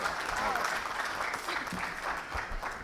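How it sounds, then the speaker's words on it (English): Convention audience applauding after a speaker is introduced, a steady, fairly faint wash of clapping throughout with some background voices mixed in. "Please give a big round of applause for Mr. Javed Jabbar."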